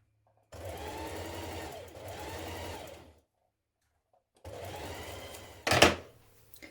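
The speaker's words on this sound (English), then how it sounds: "pin it in place and we're going to stitch that seam" Sewing machine stitching the side seams of a McCalls 7969 dress: two close runs of steady motor hum, a pause of silence, then another run that ends in a sharp clatter, with no voices.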